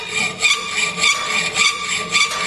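Hacksaw cutting a workpiece clamped in a vise, steady back-and-forth rasping strokes at an even rhythm, about four per second-and-a-half, close and clear with no talk.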